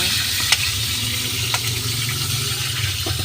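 Pork liver frying in a pan, with a steady hiss of hot oil, a low hum underneath and occasional sharp pops and spatters, heard close up.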